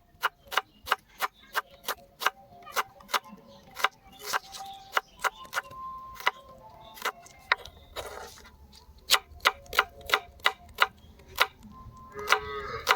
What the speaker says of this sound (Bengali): পেঁয়াজটাকে আমরা ঝুরি ঝুরি করে কেটে নেব।